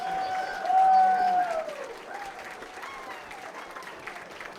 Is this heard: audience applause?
yes